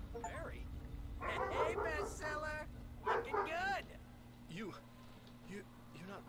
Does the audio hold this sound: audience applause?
no